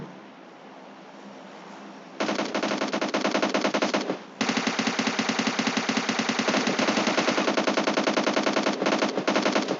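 Automatic gunfire rattles in PUBG Mobile Lite, starting after a quiet stretch with a long rapid burst, a brief pause, then sustained fast firing that keeps going loud and close to the end.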